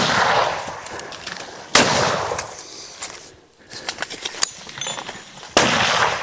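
Hunters fire on a charging tuskless elephant in Zimbabwe: two loud, sharp gunshot blasts several seconds apart, with echoing tails and scattered rustling between them outdoors.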